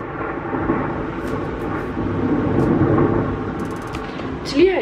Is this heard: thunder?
yes